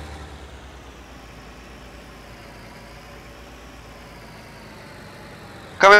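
A tractor engine in Farming Simulator 19, working a barley harvest, drones at a steady low idle throughout, then a sudden louder burst of sound cuts in at the very end.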